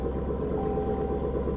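A supercharged V8 of a 2017 Dodge Charger SRT Hellcat idles with a steady low rumble throughout, smooth and continuous with a faint mechanical hum, close by and fairly loud.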